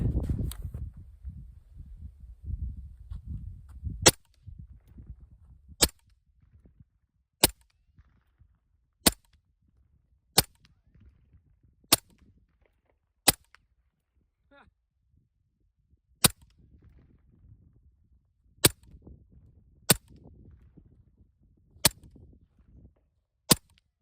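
Rifle shots ring out during winter long-range shooting in southern Idaho, a dozen sharp, isolated cracks spaced a second or two apart over near silence, with some low rumble and handling noise at the start.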